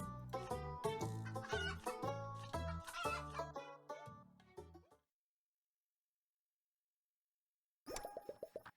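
Cartoonish chicken clucks and squawks from the farming video game Terracards, a busy run of clipped bird calls over a bouncy tone, then silence and a brief final chime.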